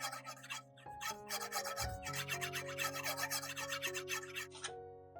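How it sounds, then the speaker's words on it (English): A knife blade is rubbed against an old battery, giving quick scratchy rasping strokes on each side under background music. "You only need to polish each side of the knife for 1 minute and you're done."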